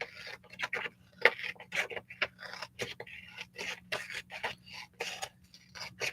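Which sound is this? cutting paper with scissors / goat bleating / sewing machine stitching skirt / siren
cutting paper with scissors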